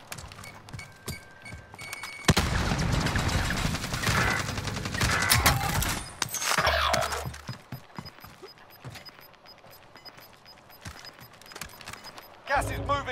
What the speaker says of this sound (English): I'm fucking getting shot at